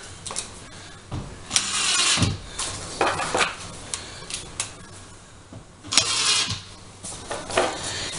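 Screws being driven into drywall during a hole repair in a wall, heard as repeated bursts of motor whine from a power driver, each a second or so long, with pauses between and no talking.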